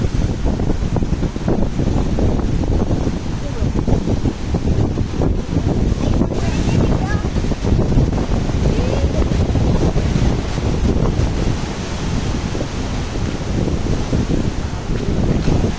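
Strong wind buffets the microphone over steady crashing surf on the beach at Malvan on a rainy monsoon day, loud and continuous throughout with no voices.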